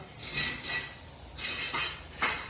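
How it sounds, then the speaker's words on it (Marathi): Dishes and pots being scrubbed and washed in a home kitchen, with a few sharp metallic clinks and clatters standing out over a low, steady background; no one speaks. "तू परत भांडी घासायला बसला का"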